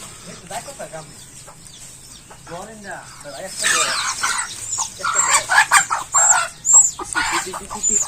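Chickens cluck and squawk nearby in uneven bursts, growing busier toward the end, with people talking in the background.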